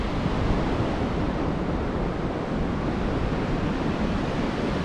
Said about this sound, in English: Some nice waves out there.